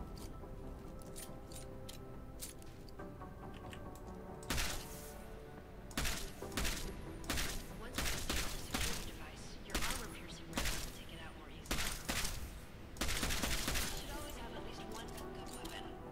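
An EMP rifle fired semi-automatically in Deus Ex: Mankind Divided, a series of sharp electric cracks in short irregular clusters, loud against background game ambience, with someone talking between the shots.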